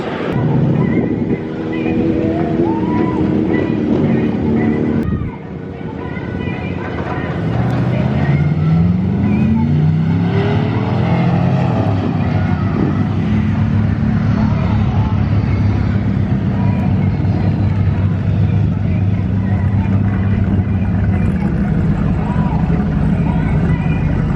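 A Chevrolet Silverado pickup truck makes a quarter-mile drag run, its engine roaring loud and close, revs climbing and shifting through gears in rising sweeps, then a sustained high drone as it pulls away, with some talking mixed in.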